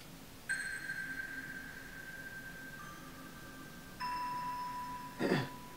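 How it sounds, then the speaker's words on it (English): Bright glockenspiel tones sound in a slow sequence of sustained notes, each ringing out long under a lush reverb preset that smears them into a soft wash, with a brief percussive hit near the end. "And I have the glockenspiel right here."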